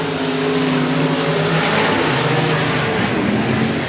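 Stock race cars roar around the turns at 105 Speedway, several engines droning and revving loudly in overlapping pitches as they pass close by, with no talk.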